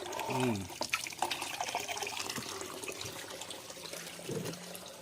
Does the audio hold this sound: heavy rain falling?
no